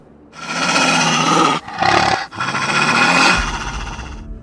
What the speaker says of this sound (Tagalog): Tanging pag-angil lang naman ang naisagot ng nilalang sa sinabi ni Tatang Guillermo